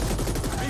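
Rapid gunfire in the sci-fi shooter The Ascent, a dense, continuous burst of shots filling the whole short moment at close range.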